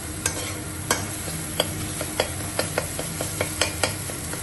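Sesame seeds and ginger fry in a pan with a steady sizzle, broken by sharp, repeated scrapes and clinks of a spoon stirring, fairly close with no talking.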